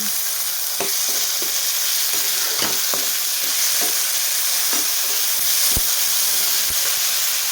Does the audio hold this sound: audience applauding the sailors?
no